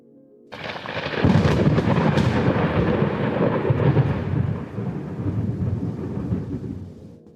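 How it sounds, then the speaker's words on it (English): Deep muffled thunder rolls over the sky above an undersea dragon palace in a fantasy audio drama, a long continuous rumble that swells in after half a second and stays loud, slowly fading with a faint rain-like hiss. "a muffled thunder boomed in the sky above the Dragon Palace at the bottom of the sea"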